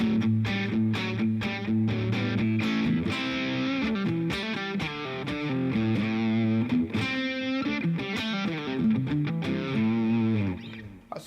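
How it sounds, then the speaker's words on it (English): An electric guitar played through a distortion pedal rings out continuously with thick, saturated chords and picked notes, loud and alone with no talking. "let me show you my distortion"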